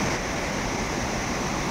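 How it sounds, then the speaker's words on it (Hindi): Mountain waterfall in the Churdhar forest of Sirmaur, a steady, loud, broadband rush of falling water with no breaks, close by and alone. "ये झरना है"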